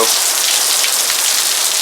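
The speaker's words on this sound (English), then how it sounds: "Florida is pouring down its good old rain as usual." Heavy Florida rain pours down in a dense, steady hiss of countless drops striking surfaces, loud and unbroken throughout.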